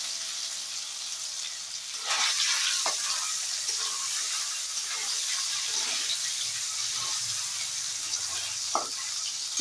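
Paneer pieces frying on a low flame, a steady close hiss of oil with a few light clinks and scrapes from stirring, even and moderately loud throughout, with no voices.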